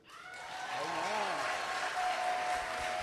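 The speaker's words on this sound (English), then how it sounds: "please give him a wonderful hand clap" An audience gives a hand clap for a guest asked to stand at a music event; steady, fairly faint crowd clapping continues evenly throughout, with a brief voice-like tone and sustained musical notes beneath.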